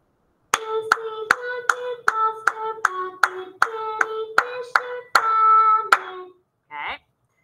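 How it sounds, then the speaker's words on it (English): Sharp hand claps come in a steady rhythmic pattern of about fifteen beats, each ringing with a bright tonal edge, and a short tone sounds alone at the end. "So you can play it again and clap the rhythm"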